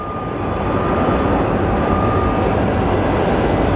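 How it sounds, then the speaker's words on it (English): Frontier Airlines jet in the swan livery, arriving from Las Vegas on final approach at Phoenix Sky Harbor: a steady, broad engine roar that holds loud and even throughout, with no voices. "on final final, we have Frontier 4774 Summer to Swan livery coming out of Vegas"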